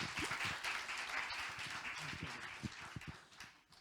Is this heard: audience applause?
yes